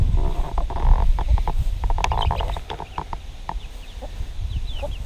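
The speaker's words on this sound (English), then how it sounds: "And she has 5 chicks here." A hen clucks softly with her two-to-three-week-old chicks in a nursery coop, short low clucks and scattered high peeps over rustling and shuffling noise, close and moderately loud.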